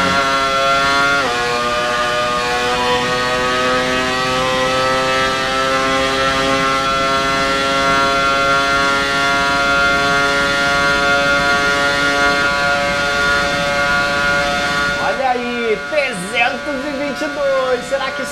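A 1998 McLaren F1 car with a Mercedes engine, driven at top speed in the F1 2018 racing game, screams with a loud, steady high-pitched whine that holds nearly level, then stutters and shifts near the end.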